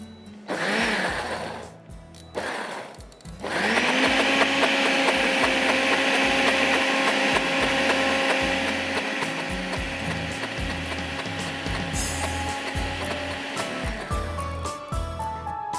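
Blender whirring through hummus of chickpeas, tahini and olive oil, a short burst and pause, then a loud sustained motor drone that runs nearly to the end.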